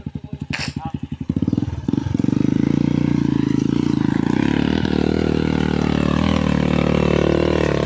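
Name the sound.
motorcycle exhaust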